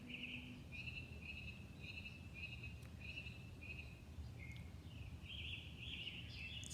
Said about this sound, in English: Listen to the birds. They are going.